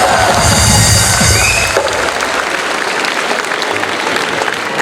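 A comedy show crowd in Delhi bursts into loud applause with cheering, strongest at first, then settling into steady clapping.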